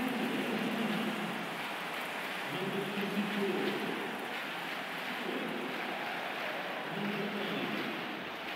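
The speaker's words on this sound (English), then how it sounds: "This rain shouldn't dampen expectations, though." Rain falls steadily at an outdoor football match between Charleston Battery and Detroit City FC, a constant soft hiss with gusts of wind noise washing over the microphone.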